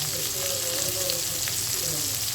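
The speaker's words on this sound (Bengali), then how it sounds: "দেখো রুই মাছ ভাজা হচ্ছে।" Rohu fish frying in a pan gives a steady close sizzle with crackling oil throughout, and faint voices can be heard underneath.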